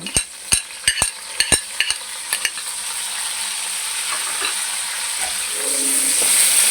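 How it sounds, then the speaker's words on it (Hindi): Chopped garlic sizzles steadily in a hot pan for a home-style lauki chicken, with several sharp clinks and scrapes of a spoon stirring near the start, then a continuous frying hiss that swells toward the end. "अब मैंने जो लहसुन काट के रखा वो डाल रहा हूँ।"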